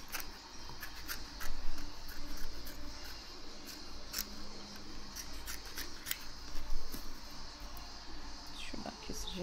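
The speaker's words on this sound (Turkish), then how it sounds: "Şuradan keseceğim." Scissors cutting during a home DIY craft project, quiet intermittent snips and ticks at close range with a voice talking faintly in the room.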